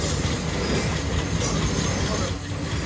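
Ovijatri Commuter train pulling out of Shibchar railway station toward Gopalganj, running 20 minutes late: a loud, steady rumble of rolling carriages fills the whole stretch without letup.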